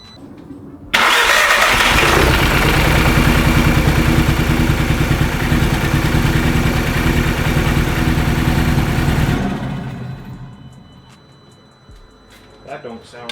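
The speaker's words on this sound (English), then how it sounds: "It just had a random misfire, which is sometimes happens after you do carbon cleaning." A VW/Audi MK2 engine, just back from carbon cleaning and prone to a random misfire, catches and runs loud and rough for about eight seconds, then dies away into near quiet with a few faint clicks.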